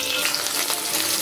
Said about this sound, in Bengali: আলুগুলোকে লাল করে ভেজে নিচ্ছি।